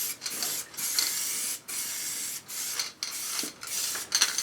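Spray can hissing out undercoat onto Triumph Scrambler motorcycle heat shields in a garage, in steady bursts separated by brief pauses, close and fairly loud.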